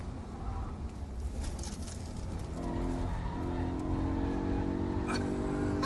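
A Corvette Z06 accelerates hard, its engine rising in pitch with tire squeal and a rising roar heard from inside the car, with faint voices underneath.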